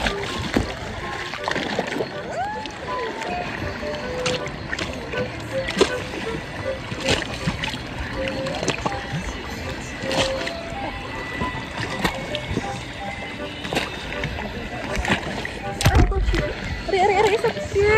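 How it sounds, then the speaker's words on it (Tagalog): Strong sea waves surge and splash continuously against rocks at Caramoan, a dense, close wash of water with sloshing bursts throughout, while people talk faintly beneath the noise. "Talagang parang malakas na yung alon niya."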